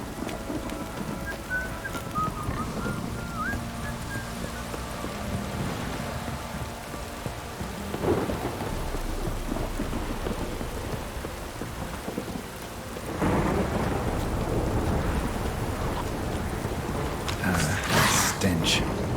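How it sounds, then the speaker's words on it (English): Heavy downpour in The Witcher 3: Wild Hunt, a constant hiss of rain on surfaces with low rolling thunder building and surging louder partway through, while a voice speaks briefly over the storm. "This downpour's a bastard"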